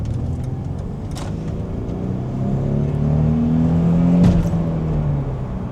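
A car with resonator and muffler delete accelerates hard on the road, its engine note rising steadily and growing louder over a few seconds, with a brief whoosh near the end.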